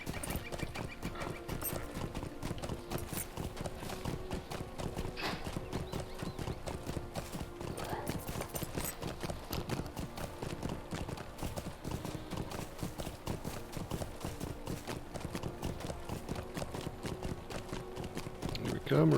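Rhythmic clip-clop of horse hooves riding steadily through Dwelon in The Lord of the Rings Online, with game music and occasional whinnies; a voice talks over it throughout.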